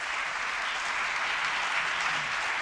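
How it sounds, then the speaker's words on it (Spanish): A room full of people claps for an incoming speaker at a technical talk, a dense, even wash of applause that holds steady throughout without noticeable voices. "un aplauso para Daniel"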